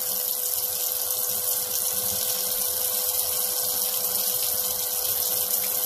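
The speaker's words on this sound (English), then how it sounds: "Rinse them a little bit." Shrimp are rinsed under a running kitchen tap. The water makes a steady, close, continuous rush with no pauses.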